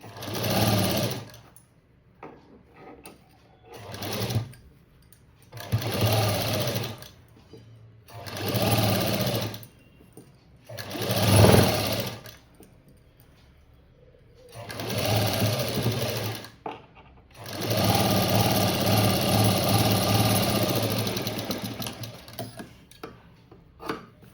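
A sewing machine stitches the waistband and lace of a blouse made from a sari border, running in short bursts of rapid mechanical clatter separated by pauses and ending in one longer run, close and clear.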